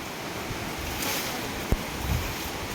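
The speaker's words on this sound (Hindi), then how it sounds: "এটা হচ্ছে ওয়াটারফল অফ রামকাশি" Ramkashi waterfall in Kalahandi, a small waterfall, gives a steady broadband roar of rushing water with a brief knock partway through and no talk.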